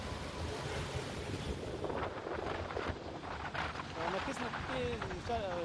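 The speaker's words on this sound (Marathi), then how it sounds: "या ठिकाणी ठाण्यामध्ये सोसाट्याचा वारा सुटायला सुरुवात झालेली आहे" Strong gusty wind blows across an open area in Thane, buffeting the microphone with a constant loud roar and rumble, while faint tonal sounds drift in near the end.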